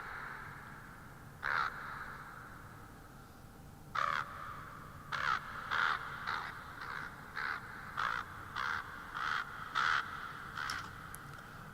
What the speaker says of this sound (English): Crows just don't even sound creepy when you don't have this same.